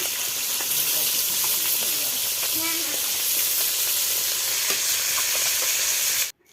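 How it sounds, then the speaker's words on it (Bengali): Koi fish fry in hot oil in a home kitchen, giving a steady, loud hissing sizzle with faint stirring clinks. The sizzle runs unbroken until it cuts off abruptly at the end. "কই মাছ একটু বেশি করে ভাজতে হয়"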